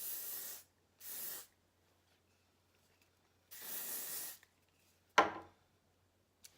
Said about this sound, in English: So I will just finish with a little bit of finishing spray.